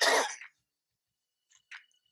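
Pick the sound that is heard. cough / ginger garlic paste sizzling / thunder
cough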